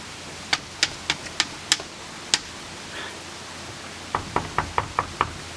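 Someone knocks on the door of a mill in Thiézac, Auvergne, with crisp, close raps in two runs: six evenly spaced knocks, a brief pause, then a quicker series of about six more.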